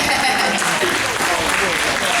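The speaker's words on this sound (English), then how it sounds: "Y'all better clap for all that." An audience at a Q&A panel claps in a short, dense, steady burst of applause that stays fairly close and loud throughout.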